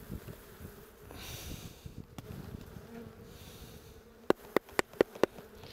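Honeybees buzzing steadily at close range as a hive frame is shaken, a soft continuous drone interrupted near the end by a quick run of five sharp knocks.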